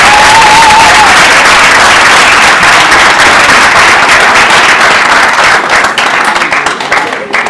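Loud, sustained applause for contestants at a 2016 award ceremony, a thick roar of many hands clapping with some crowd noise mixed in, easing slightly only in the last second.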